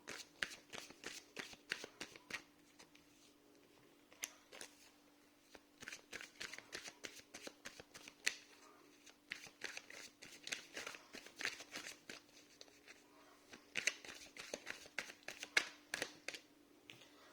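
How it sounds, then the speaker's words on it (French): Tarot cards are shuffled by hand in quick, irregular bursts of crisp riffling and slapping, with brief pauses and occasional soft drops, close and fairly quiet. "Je fais tomber les cartes, donc ça peut prendre un peu de temps."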